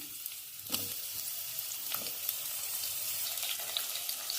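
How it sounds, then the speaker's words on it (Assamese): Chopped onions sizzle and crackle in hot oil in a kadai on the stove, a steady frying hiss with a few sharper pops as they are stirred, heard alone and close. "এতিয়া মই তেলত পিয়াজ দি দিছো।"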